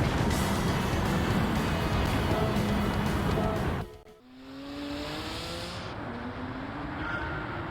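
Race car engine in Gran Turismo 7, loud and roaring for several seconds before cutting away sharply, then climbing again in a steady rising whine as it accelerates through the gears.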